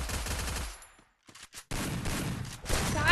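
Shotgun fire in the Free Fire video game, heard as loud, dense bursts of gunshots broken by a short near-silent gap with a few isolated blasts, then another sustained volley.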